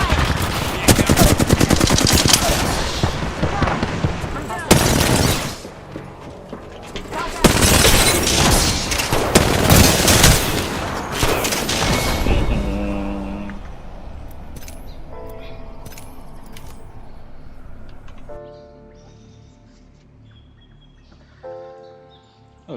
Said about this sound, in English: Getting shot at. Reloading. Broken enemy shield. Taking fire!